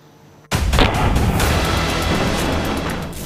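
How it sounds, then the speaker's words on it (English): A sudden loud burst of heavy gunfire and booming artillery blasts in the Russia-Ukraine war shelling, a dense continuous roar of shooting and explosions that never lets up. "Gunfire, explosions, bombardments, incessant rain of missiles and rockets."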